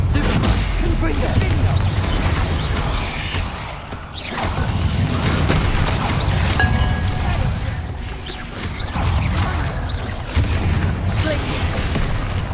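Spell blasts from combat in the video game Hogwarts Legacy: a dense, continuous barrage of booming impacts and crackling bursts, loud and close, with a voice calling out spell names over the fight.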